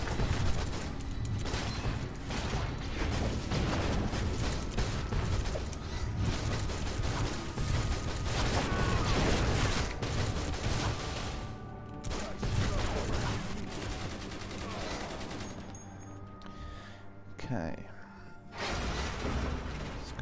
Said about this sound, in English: Try that machine gun again